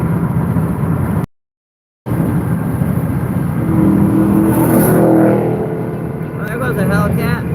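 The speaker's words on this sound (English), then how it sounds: "there goes a Hellcat" A Dodge Hellcat roars past with a rising, revving engine that swells to a peak and fades, heard outdoors with someone talking over it.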